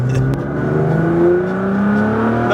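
A 2014 Nissan GT-R's six-cylinder engine, tuned to about 1380 wheel horsepower, revs hard and loud in a steady, rising whir that rings close up, with no talking.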